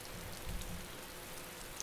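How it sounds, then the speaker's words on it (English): Steady rain falls in the video game DayZ, a soft, even hiss that holds at a constant low level throughout with no talk over it. "The rain."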